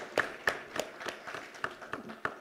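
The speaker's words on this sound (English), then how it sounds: "Let's give a round of applause to the authors and the publisher of this book" Sparse, quiet hand claps from an audience at an Indian symposium hall ring out as roughly eight separate snaps over a couple of seconds, thin and unhurried rather than a full ovation.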